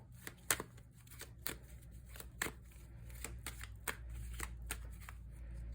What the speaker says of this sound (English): So you guys can see me shuffle.